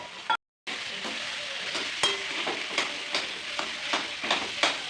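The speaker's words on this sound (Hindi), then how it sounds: "आलू को कढ़ाई में डालने के बाद उसको अच्छे से कलछली से ही अच्छे से उसको चला लेना है" Potatoes fry in a kadhai while a ladle stirs and scrapes them, giving soft continuous sizzling broken by a string of sharp metallic clinks and taps, close by and fairly quiet, with a short silent gap near the start.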